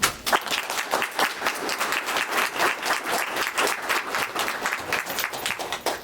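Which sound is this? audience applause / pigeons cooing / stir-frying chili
audience applause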